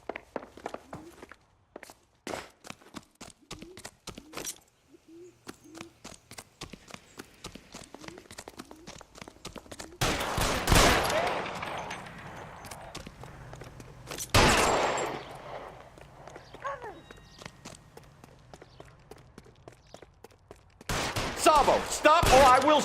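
Gunfire in the L.A. Noire video game: sparse sharp shots ring out amid steady footsteps, with a few loud close blasts and a burst of rapid fire toward the end, separated by quieter stretches.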